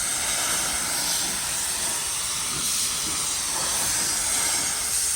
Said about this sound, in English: We got our clear coat going on.